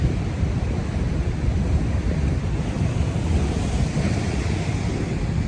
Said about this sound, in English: Look at those waves right out there.